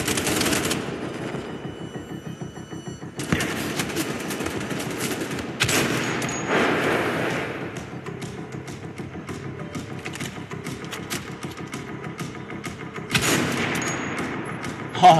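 Rapid automatic gunfire in the shooter Wolfenstein: The Old Blood, loud sustained bursts of machine-gun fire with brief gaps and a final sharp hit.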